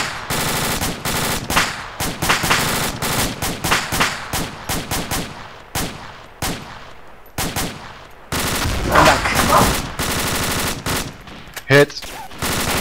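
Sustained bursts of automatic gunfire with rapid cracks and rattles crowd together, dense and loud, with brief pauses and some voices among the shots as a commando unit opens fire during a raid operation.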